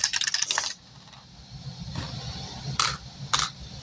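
Dice clatter and rattle in a sharp burst at the start, followed by a few brief hard clicks and taps as they settle, close and fairly quiet.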